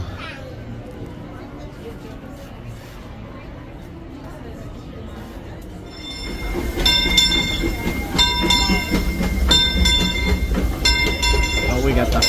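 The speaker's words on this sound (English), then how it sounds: "take the Grand Circle tour on the train" Disneyland Railroad train ride on the Grand Circle tour, with a rumbling train that swells louder and starts a rhythmic clickety-clack of wheels on track, while people talk over the ride.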